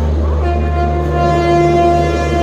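A train pulling into a railway station platform, a loud, sustained rumble of rolling wagons with steady tonal engine hum and horn-like drones, close and unbroken.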